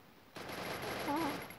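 Shotgun fire in a video game, a loud sustained blast of gunfire after a quiet moment, with a short tonal game sound near the end.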